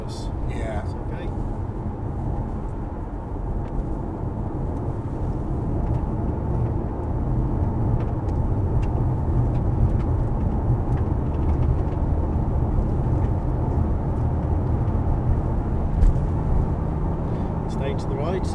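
A new Mazda 6 drives at speed around Longcross Proving Ground in Surrey, its engine and road noise forming a steady, close drone while people talk throughout.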